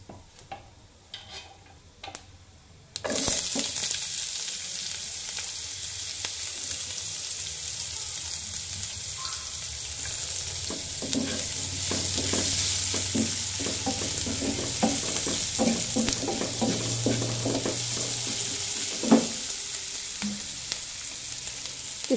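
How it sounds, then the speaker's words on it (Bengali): Chopped onion and garlic sizzle and crackle in hot oil in a pan, with occasional stirring clatter. The frying starts abruptly after a quiet moment and keeps a steady hiss. "এখন আমি এখানে কেটে রাখা পেঁয়াজ আর রসুন দিয়ে দিব।"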